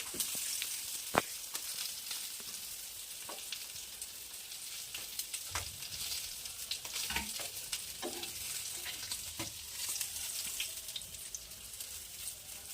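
Sea fish frying in a pan of oil, a steady crackling sizzle throughout with occasional scrapes and clinks of a utensil lifting the pieces, fairly close and without speech.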